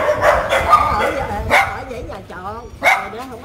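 Several of the nearly 40 rescued dogs bark and yip loudly in short bursts close by in Sa Đéc, Vietnam, mixed with whimpers, while people talk over them.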